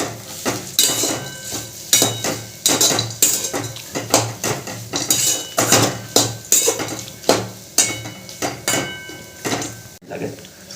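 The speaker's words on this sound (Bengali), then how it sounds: "এবার এটা ভালো করে এর সাথে মিশিয়ে নেব" Crushed fried peanuts being mixed into a chili mixture in a pan, with a steady series of sharp spoon scrapes and clanks against the metal, loud and close.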